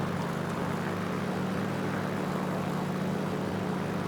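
A WW2 naval fighter propeller plane engine in a building game, a steady droning hum with a constant buzzing tone, continuous and fairly close, with no talk.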